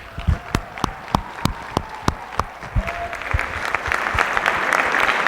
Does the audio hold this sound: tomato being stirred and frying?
no